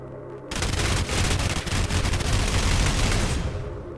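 In the video game SULFUR, a gun empties a full magazine in one sustained burst of rapid, loud gunfire lasting about three and a half seconds after a brief quiet start.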